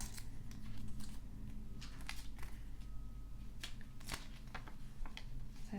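Pages of the April 2025 Vogue magazine are flipped and handled, giving a steady run of papery rustles and crisp turning swishes close up, with a low background hum and no talking.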